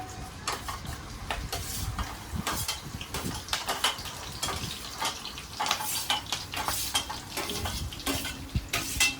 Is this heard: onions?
yes